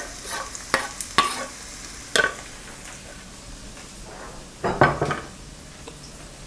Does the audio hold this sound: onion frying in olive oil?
yes